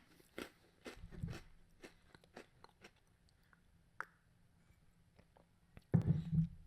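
Animal crackers crunch up close in a series of crisp bites and chews, fairly quiet, with a heavier thump-like burst near the end and no talking.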